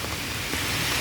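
Steady rain falls beside a canal on a walk through a city street, a soft even hiss throughout with a faint thump near the end.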